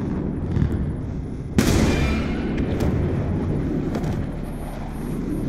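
A single sharp gunshot rings out in Call of Duty: Black Ops 2, a loud broadband crack followed by a sustained rumbling wash of game ambience, with a few faint later clicks and no talk.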